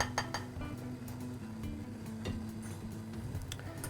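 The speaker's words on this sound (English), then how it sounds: "now I'm just going to whisk" Quick rhythmic clinking of a whisk against a bowl while mixing egg yolk into bechamel for homemade mac and cheese, faint, repeated taps over a low musical background.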